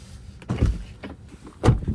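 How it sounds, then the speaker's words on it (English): A 2024 Tesla Model 3 rear door is shut from outside, heard as a couple of soft mechanical movements followed by one solid, muffled thud near the end, close by with no talking. "There's how the door sounds from the outside."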